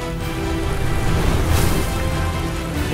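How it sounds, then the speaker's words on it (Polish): Rain spell in the Magicka video game, cast by combining water and fire elements, gives a steady, loud wash of rain-like hiss and patter that holds evenly throughout with no speech. "Teraz woda, ogień. Okej, to jest deszcz."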